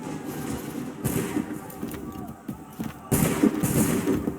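Musket volleys in Assassin's Creed III go off in two loud, broad cracks about two seconds apart, each trailing a brief rumble over a low battlefield din.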